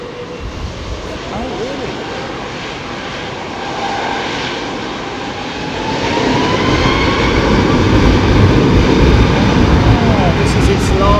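An airliner on take-off at London Heathrow on a windy day roars as the engines spool up, growing steadily louder and rumbling over gusty wind, while people talk nearby.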